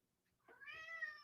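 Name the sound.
cat meowing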